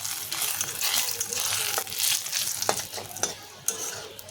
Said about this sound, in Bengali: একটু রসুনটা ভাজা ভাজা হতে দেব।